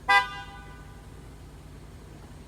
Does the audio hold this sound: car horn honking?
yes